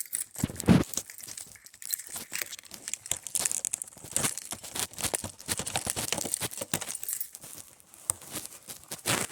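A sticker being torn off the packaging of a Bass Jaxx Reverb wireless speaker makes continuous close crinkling and ripping of paper and plastic, with rapid uneven scratchy bursts and no talking.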